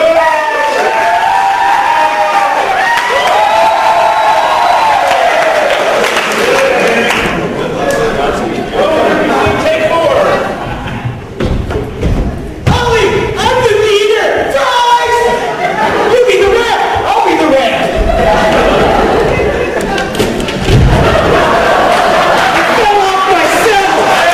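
A studio audience votes on a Survivor-style game show by cheering and applauding, a dense, loud crowd roar with shouts and chatter that swells and dips across the stretch, with voices mixed throughout.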